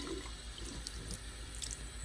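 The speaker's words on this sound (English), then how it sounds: "then you just put it through some regular water and rinse off all the salt on it" A salted aquarium plant is rinsed under regular water, giving a quiet, steady flow of running tap water with faint drips and no voices.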